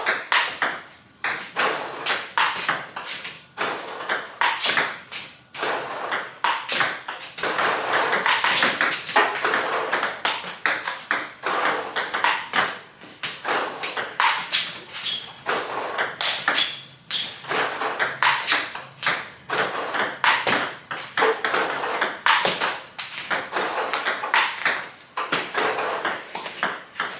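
A Pong Bot Nova S Pro table tennis training robot fires balls in a steady stream, each shot a quick crisp ping followed by bouncing taps, continuing without pause and with no voices.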